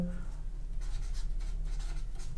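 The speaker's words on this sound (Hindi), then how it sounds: "चलो लिख लेते हैं" Pen or chalk scratches out notes during a geometry lesson on quadrilaterals in a series of short, close strokes over a low steady hum.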